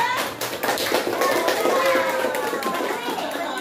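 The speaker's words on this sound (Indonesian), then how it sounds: "Beri tepuk tangan buat kelompok 1." Classroom applause for a student group presenting a project on tidying a messy bookshelf, a short burst of children's clapping with voices of kids mixed in, fairly close and moderately loud.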